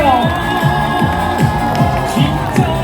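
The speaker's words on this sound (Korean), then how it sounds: "우리 평택시민 여러분 다시 한번 큰 환호와 박수로 김문수 후보를 환영해 주십시오" A crowd at a Pyeongtaek K-55 presidential campaign rally cheers and shouts in welcome of candidate Kim Moon-soo, a loud, dense swell of voices with rhythmic, chant-like calls carrying throughout.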